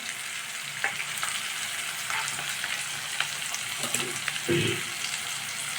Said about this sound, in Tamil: இப்போது கொஞ்சம் லேசாக வதங்கிட்டுருக்கு